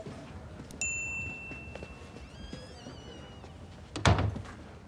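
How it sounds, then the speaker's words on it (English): An office door closes with a dull thunk near the end, after a faint squeak and some shuffling movement in a quiet room, with no talking. "Close the door."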